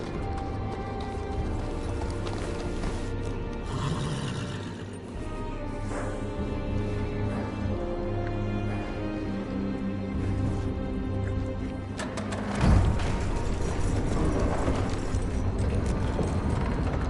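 A horse clip-clops steadily beside creaking mechanical gear sounds in the Telltale Game of Thrones video game, set over a continuous music bed, with a brief louder thump near the end.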